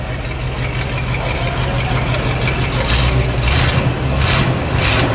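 A steady, deep engine rumble idles continuously, loud and close, with a few brief rushes of added noise near the end, from a 1978 Oldsmobile Starfire Firenza's 5-litre V8 with an aftermarket exhaust.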